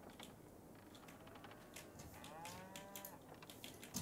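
Cows on a farm in Farming Simulator 22 moo once in a long, drawn-out call in the middle of the clip, fairly faint over soft clicking and low background noise.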